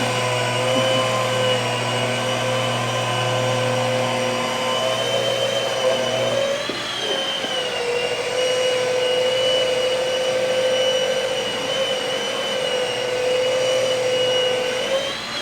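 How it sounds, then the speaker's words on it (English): A rotary buffer polishing car paint whines steadily at close range, its motor pitch dipping briefly partway through before settling back into a continuous drone. "when you're using a rotary buffer, you want to hold it flat."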